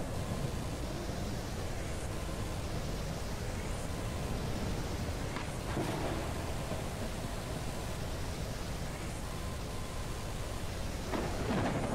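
A thunderstorm rages in the video game Forever Skies: dense, steady rain roars without a break, with low rumbling thunder swelling underneath and a few brighter cracks, and no voices over it.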